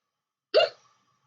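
A single sharp hiccup, brief and close, standing alone in otherwise near silence.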